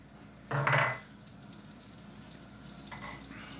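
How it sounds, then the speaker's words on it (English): Steak frying in a pan as a knob of butter goes in, a soft steady sizzle with a louder hiss and clatter briefly, then quieter cooking sounds. "I'm going to get a knob of butter in as well. We'll get that melted."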